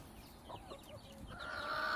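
Silkie hens freshly molting, soft clucks and murmurs close by in a coop, with a steadier higher call building toward the end.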